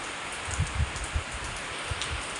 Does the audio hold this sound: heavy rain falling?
yes